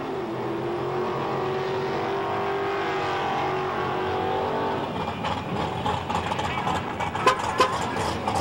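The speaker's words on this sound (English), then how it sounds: "we see the replay of Leland Blee heading down the track" A drag racing car runs down the track at an NHRA event, a loud sustained engine roar that fades and gives way to a commentator's voice.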